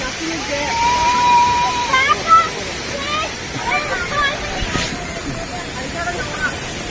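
Water rushes steadily through the small stream at Karakkundu waterfall, a constant broadband wash heard close by, with people's voices and babble mixed over it throughout.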